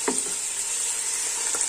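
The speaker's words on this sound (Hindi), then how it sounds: "ये ज़ीरा वगैरह और काली मिर्च ये हम साथ ही डाल देंगे, ताकि ये भी इसके साथ थोड़ी सी भुन जाए" Cumin seeds and black pepper fry in hot oil with ginger-garlic paste for a chicken biryani, giving a steady, bright sizzle throughout with a couple of soft clinks near the start and end.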